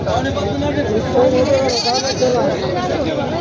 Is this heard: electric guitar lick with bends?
no